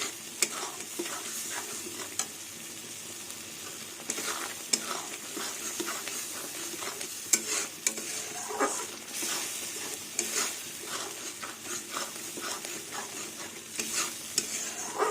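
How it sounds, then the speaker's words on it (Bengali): Dal and poppy seeds are stirred nonstop in a hot pan, producing a soft dry sizzle overlaid with frequent scraping and tapping of the spoon against metal, close and steady with no talking. "এবার ডালটা আমি অনবরত নাড়তে থাকবো"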